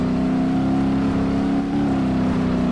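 A Gavril H-series truck drives on dirt in BeamNG.drive, its steady engine drone loud and continuous throughout, with no voices over it.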